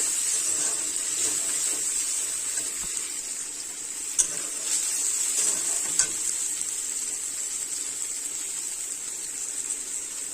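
Chopped onion, green chili and tomato sautéing in a pan, a steady hissing sizzle held throughout with two brief spoon clinks against the metal, no one speaking.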